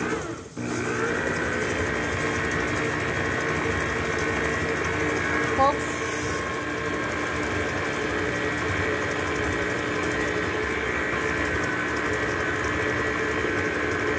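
An electric mixer creams chocolate pecan cookie dough with a steady, droning whir that runs unbroken after a brief start, with someone speaking over it.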